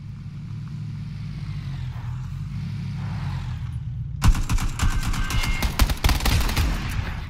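Gunfire from the battle royale game PUBG breaks out as a dense, rapid volley of sharp cracks after a low rumbling engine drone, loud and close, with no talk over it.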